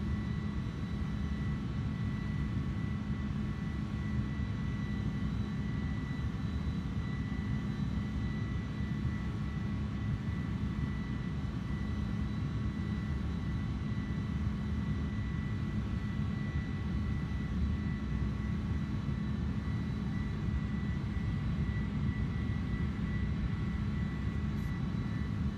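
A large airliner's engines drone steadily in a flight simulator game, a continuous low rumble with a faint tonal whine that stays level and unchanging throughout, with no talk.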